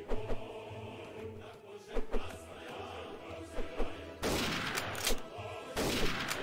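In a Mount & Blade Warband mod, sniper rifle shots and battlefield gunfire go off as scattered loud cracks and thumps, then build to a dense, roaring volley near the end.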